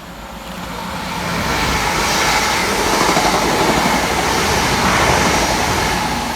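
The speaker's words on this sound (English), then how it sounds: "passing fast for Northern is 323-205 and 323-203" A Northern class 323 electric train, two units coupled, passes fast through a station on a wet, rainy day, a loud, close, sustained rushing roar of wheels and air that swells and holds for several seconds.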